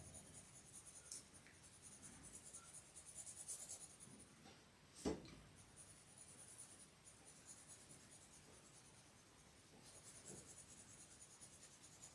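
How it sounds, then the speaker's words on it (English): A pencil is drawn across paper in circular motions, shading with the side of the lead: a steady, soft, continuous scratching rub heard up close and alone, with one brief louder tap midway. "I am still using the second darkest pencil, circular motions."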